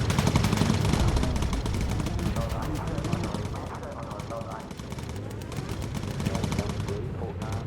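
Bomber gunners in the video game Bomber Crew fire nonstop rapid bursts of machine-gun fire, loud and dense, with a heavy low rumble underneath.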